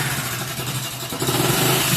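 A Hero HF Deluxe BS4 motorcycle with about 50,000 km and a failed engine runs close by, giving a loud, continuous, rough engine drone for two seconds that swells slightly toward the end.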